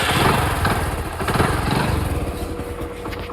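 A motorcycle engine is started and left running to warm up, a steady near rumble with a rough low thud throughout and no talk.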